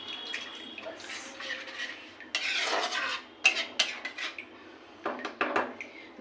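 Spice paste being stirred with added water in a cooking pan on a gas stove for a brinjal dish, with scraping clinks and wet stirring sounds coming in uneven bursts close by, without talk.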